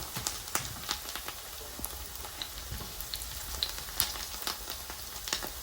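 Chicken schnitzel fries in a big pan, giving a steady close sizzle dotted with small pops and crackles of hot oil, with no other sounds.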